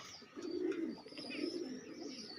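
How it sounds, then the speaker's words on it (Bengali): Pigeons kept for sale coo softly nearby, low throaty rolling calls in two short swells over faint background noise. "এই পায়রাগুলো সেল আছে,"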